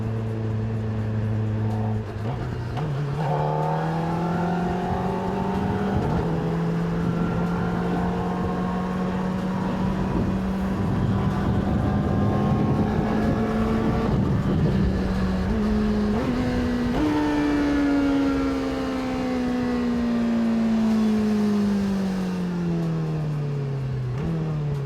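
Kawasaki Ninja ZX-4RR motorcycle ridden on a road, its high-revving engine droning steadily close by, pitch climbing through gears with quick-shifter changes, easing off near the end; no talking.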